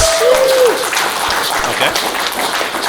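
Convention panel audience applauding at a retro gaming expo, a steady wash of many hands clapping close and loud for about three seconds, with a brief whistle-like tone near the start.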